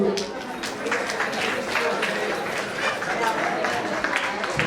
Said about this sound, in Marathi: आपण सगळे टाळ्या वाजवू.